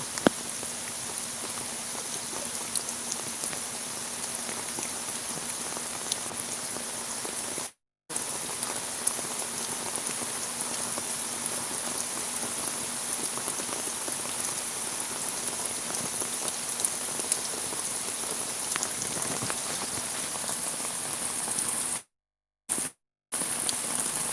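A sustained downpour drums on surfaces in a Sylhet village, close and loud, a thick unbroken wash of raindrops with a few abrupt brief dropouts late on.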